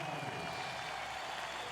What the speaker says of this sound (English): The fans on their feet, a cry of USA now beginning from the upper decks, flags waving proudly